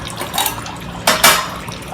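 Water poured from a container into a metal camping kit stove pot, with a few sharp clanks and splashes of liquid against the pot, close and fairly loud, no one talking.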